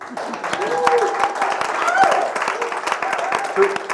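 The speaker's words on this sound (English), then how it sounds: "Round of applause for Tarik." An audience at a live Milwaukee arts stage show applauds for a radio host joining the stage, a steady patter of clapping under cheers and voices.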